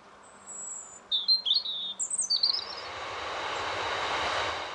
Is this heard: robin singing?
yes